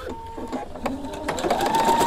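A sewing and embroidery machine couches yarn down with embroidery thread, a quick run of rhythmic mechanical stitching clicks and whirring motor hum, fairly close and rising toward the end.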